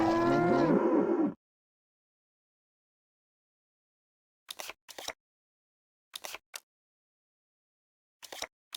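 A single loud cow moo from the Nancy Drew: The Captive Curse video game opens the stretch, followed by silence and a few short, sharp clicking sounds spaced apart.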